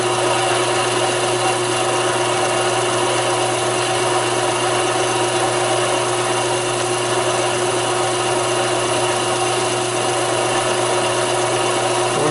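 A Taig lathe cutting metal for a tailstock handwheel handle, producing a steady, loud, continuous machining whir with a broad hiss that holds unbroken throughout, with no talking.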